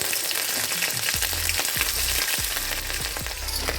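Crab sizzling and frying in a pan for a traditional Bengali sour chiti crab dish, with a steady, close hiss and crackle and several soft stirring scrapes throughout.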